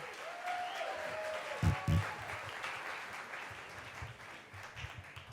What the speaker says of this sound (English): Big round of applause for Ava, everybody